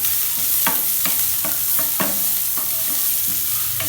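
Chopped onion frying in oil in a pan with urad dal and tempered mustard seeds, for a Tamil breakfast dish: a steady close sizzle broken by repeated clicks and scrapes of stirring, with no talk.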